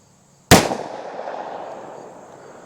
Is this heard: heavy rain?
no